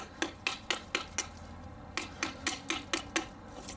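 Ganzo survival knife chopping through material balanced on a leg rather than a hard surface, giving a series of sharp, close, evenly spaced knocks, about five in quick succession, a brief pause, then five more.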